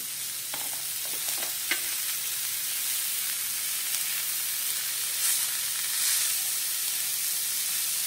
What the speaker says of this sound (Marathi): त्यात आता आपण टाकणार आहोत बारीक चिरलेली मोहरीची पाने. मिक्स करून घेऊया.